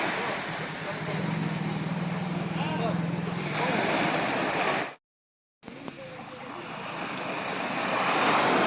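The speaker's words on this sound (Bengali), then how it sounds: "মৃদুমন্দ ঢেউ, কখনো উত্তাল ঢেউ কিনারে এসে আছড়ে আছড়ে পড়ছে।" Steady roar of ocean surf washing onto Havelock Island beach in the Andaman Islands, broad and continuous, with a brief silent gap midway and a low hum early on.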